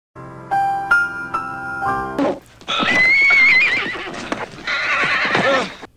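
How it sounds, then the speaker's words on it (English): A horse being broken in a film neighs loudly and shrilly in long, strained whinnies with thumping stamps. Tuneful music plays first, then gives way to the wild, struggling commotion. "Breaking a horse, it's not an easy job you better watch out."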